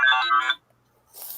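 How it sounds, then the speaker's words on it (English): A phone ringtone plays loud and close as a short bright melodic burst, stops, and then a faint higher chime follows after a brief silence. "My phone rings, and then if I ignore it on my phone, it goes to my iPad."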